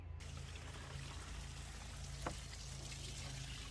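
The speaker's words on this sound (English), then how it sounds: "we're going to water it" Water pours steadily into a garden compost bin outdoors, a continuous soft splashing hiss that holds level throughout with a low steady hum beneath.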